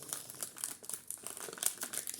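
A candy wrapper crinkles close by as someone struggles to open it, giving quiet, rapid bursts of crackling plastic that come and go unevenly.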